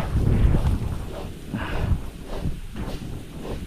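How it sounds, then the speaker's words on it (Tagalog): Strong gusts buffet the microphone at an outdoor construction site beside a cemented staircase, a steady low roar with surges and dips throughout, no voices in the foreground. "Lumalakas na naman ang hangin."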